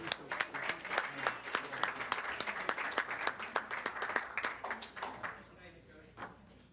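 A small room at a school board meeting applauds the head coach, with distinct individual claps fairly close, steady for several seconds before thinning out and fading near the end, with some voices underneath.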